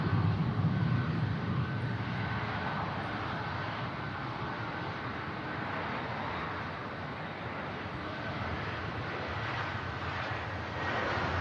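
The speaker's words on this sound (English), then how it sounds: "You have an EasyJet on finals." An EasyJet airliner on final approach at Manchester Airport, heard as a steady, moderately distant broadband jet roar that holds evenly throughout with no talk.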